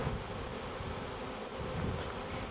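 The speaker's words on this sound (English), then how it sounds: "you can see those bees, like I talked about earlier, sticking their butts in the air and fanning that odor to let everybody know this is home" Honey bees buzzing and fanning at a homestead hive entrance, a dense continuous close drone of many wings with no voices.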